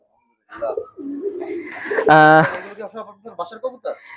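High-flying pigeons coo in a small loft, giving a few soft, low coos close by, mixed with someone talking nearby.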